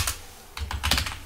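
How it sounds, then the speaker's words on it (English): Typing on a computer keyboard while entering values in a Python program: a few quick keystroke clicks at the start, a pause, then a denser cluster of taps, close and clear. "Suppose I type here"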